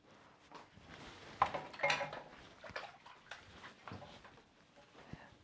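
Roasted carrot hummus being scooped by hand into a container, with light clinks and knocks of dish or utensil against it, a cluster of louder clatters early on and softer taps afterward.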